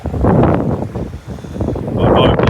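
Cold wind on a winter coastline buffets the microphone in loud gusty bursts that swell and ease over a couple of seconds, with no talk over it.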